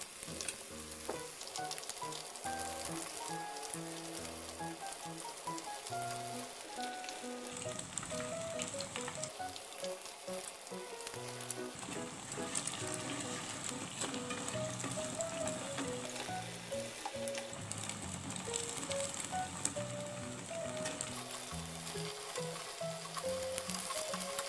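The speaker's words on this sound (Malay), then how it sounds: "Nah, ini kita goreng sampai dia kuning kecoklatan ya" Oil sizzles and crackles steadily as tofu deep-fries until golden brown, a busy bubbling hiss with occasional stirring clinks, close and continuous, with no talking.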